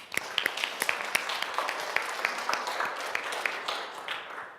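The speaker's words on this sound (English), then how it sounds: "Should we clap?" A small audience claps steadily for several seconds, a dense patter of hands at moderate volume with no voices standing out.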